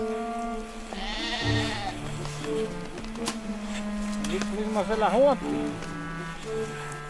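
Sheep bleat in the snow of the Austrian Alps, a few wavering calls rising and falling near the middle, heard under a voice talking steadily throughout.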